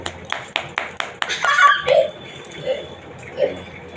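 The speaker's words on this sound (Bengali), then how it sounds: "হাততালি দাও, হাততালি দাও।" A brief run of hand clapping at a child's birthday party at home: about half a dozen crisp, evenly spaced claps, followed by voices and soft laughter.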